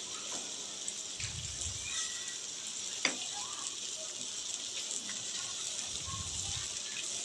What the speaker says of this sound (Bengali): ডিমের এই মিশ্রণটা এবার এই মশলাটার সাথে দিয়ে নাড়াচাড়া করে খুব ভালোভাবে ভেজে নেব